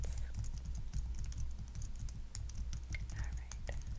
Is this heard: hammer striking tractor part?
no